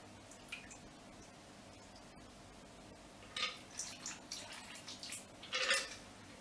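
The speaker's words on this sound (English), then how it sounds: "and then you will pour that over that block of ice." A classic Negroni poured through a Hawthorne strainer over a block of ice: a soft, close trickle and splash over steady background hiss, swelling in the last few seconds.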